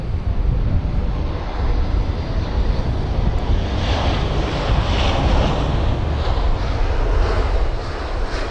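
Airbus A319 arriving from Basel at London Heathrow, a loud continuous jet roar mixed with heavy wind buffeting on the microphone, steady across the whole stretch with no voices.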